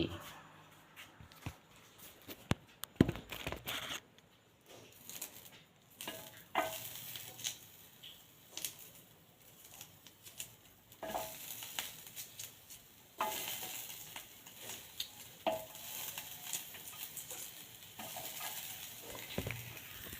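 Small shallots frying in light oil in a pan, with soft sizzling under scattered scraping and stirring clatter from a ladle, heard close with uneven bursts throughout.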